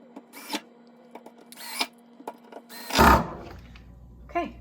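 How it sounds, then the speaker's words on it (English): Screws driven into a door hinge, with short whirring bursts from a power driver between pauses and a louder rattling burst near the middle, close by. "Now I just have to put the remaining 4 screws in"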